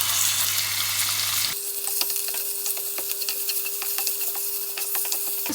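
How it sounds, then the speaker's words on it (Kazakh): Minced meat sizzles in oil in a frying pan, a dense steady hiss with a sharp change partway through as something is added or moved, and faint clinks of stirring; no voices. "Содан соң біздің тартылған етімізді салып 3-4 минуттай қуырамыз."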